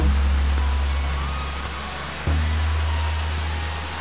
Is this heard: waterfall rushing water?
yes